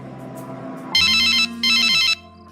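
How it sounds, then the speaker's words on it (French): A phone call's ringing tone sounds twice, each a loud, steady electronic trill lasting about half a second with a short gap between, after a quiet hum. "Je lance l'appel."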